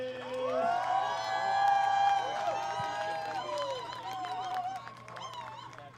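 A crowd cheers, whoops and applauds for Christina Golias, daughter of the LBCC national championship cheer team's advisor, at a college royalty presentation. The sound is steady and fairly loud, with shouting voices over the clapping throughout.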